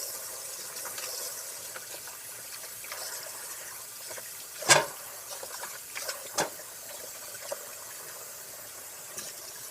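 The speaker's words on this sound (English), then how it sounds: "Get yourself some celery. Wash it all off." Celery being washed under running kitchen tap water, a steady soft hiss of flowing water broken by a few sharp splashes and knocks near the middle.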